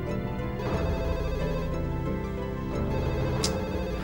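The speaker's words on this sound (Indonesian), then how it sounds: "Siapa lagi telepon?" A telephone rings in a steady repeating electronic pattern, loud and close, over a background music bed with no talk.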